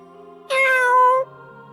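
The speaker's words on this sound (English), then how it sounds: "Oh, it's just a cat." A single clear cat meow, close and fairly loud, rises out of a quiet background and lasts under a second.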